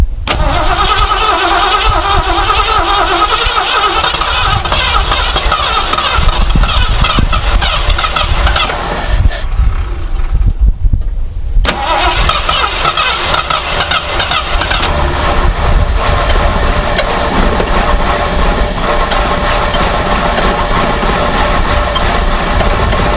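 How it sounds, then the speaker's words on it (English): An abandoned 1978 Lincoln Town Car, long unused, runs after starting, its engine loud and steady close up, idling roughly with a brief drop partway through before the rumble resumes. "Look at how quiet that engine is. I know it's not running right, but it is quiet."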